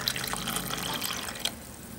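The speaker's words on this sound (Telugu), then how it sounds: "ఇలా బౌల్ లోకి తీసుకున్న తర్వాత ఇందులో వాటర్ యాడ్ చేయాలి।" Water is poured into a bowl of peeled, cut beetroot, making a brief, quiet splashing trickle that tapers off within two seconds.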